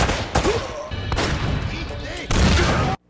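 Rapid bursts of gunfire and heavy booms crack out in quick succession in the video game Uncharted, loud and chaotic, then cut off abruptly; a voice is faintly heard amid them.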